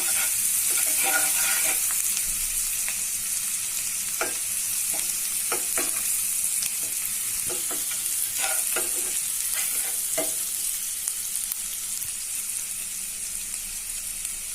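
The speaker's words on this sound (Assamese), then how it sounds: "ৰঙচুৱা হোৱালৈকে ভাজিম পিয়াজখিনি।" Onions sizzle steadily in oil while being browned, with a dense frying hiss throughout. Clusters of spatula scrapes and taps against the pan come and go, then fade toward a quieter, even sizzle near the end.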